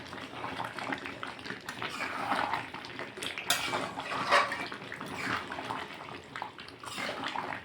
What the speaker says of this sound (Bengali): এবার মাংসটাকে আমি জল দিয়ে দেবো